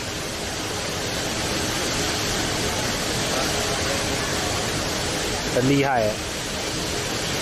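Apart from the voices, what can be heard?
indoor artificial waterfall at Singapore airport terminal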